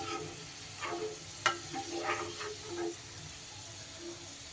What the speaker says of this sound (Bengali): এবার রসুনটাও কিন্তু একটু তেলের মধ্যে এইভাবে নাড়াচাড়া করে ভেজে নিতে হবে